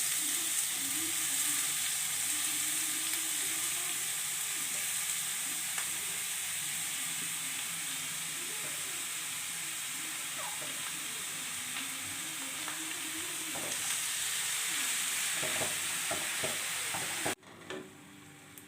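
Grated carrots with crushed cardamom fry in a pan for carrot halwa, giving a steady loud sizzle with scraping stirring strokes throughout, ending in a brief quieter moment.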